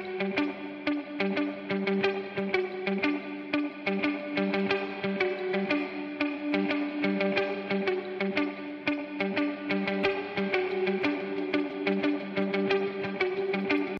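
Dense, reverb-heavy music processed through the Waves Magma Springs spring reverb plugin on its Motor City preset, a sustained lush wash running continuously with no voices.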